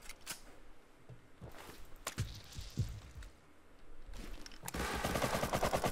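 Gunfire in the survival video game Rust, a string of sharp shots with bursts of rapid automatic fire toward the end, loud and close, with no talk over it.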